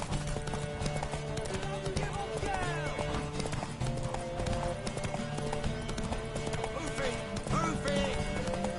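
Rapid hoofbeats of a galloping horse in The Witcher video game pound steadily throughout, mixed with crowd noise and shouting voices over the top.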